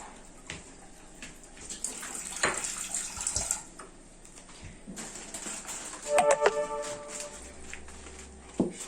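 Water is poured into a bowl over chicken and rice in a home kitchen, a faint trickling and splashing with scattered clinks of dishes, quiet and close.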